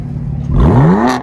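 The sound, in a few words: car exhaust revving at car meet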